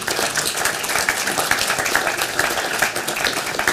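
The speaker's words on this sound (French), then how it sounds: "je vous demande de l'applaudir immédiatement" Audience at a conference on frugal innovation for Africa applauding a sponsor, a dense steady wash of many hands clapping together, loud and continuous throughout.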